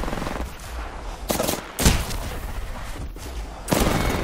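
Gunfire in the video game Apex Legends, close rapid automatic fire with a few sharper heavy blasts punctuating the steady barrage.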